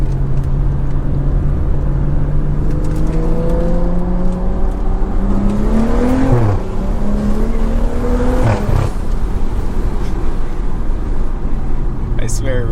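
Loud exhaust from a tuned Stage 2+ rear-wheel-drive BMW, heard from inside while driving at night, with a steady drone that rises in pitch through several revving pulls and drops back between them; a person talks over it.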